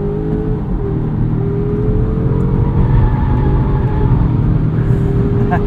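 A Volvo S60 T8 plug-in hybrid driven hard through corners on limited-grip tyres, a loud, close, continuous engine drone and road roar with a pitch that slowly rises and falls, with no talk.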